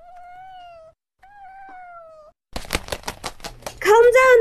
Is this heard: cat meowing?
yes